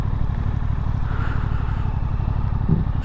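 A Suzuki GSX-8S naked sportbike idles close by, with a steady, fast-pulsing low engine thrum holding at an even level and no speech over it.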